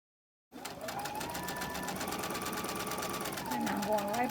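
A sewing machine stitches a quilt top seam in one steady, continuous whir that starts abruptly and runs close and even, speeding slightly near the end.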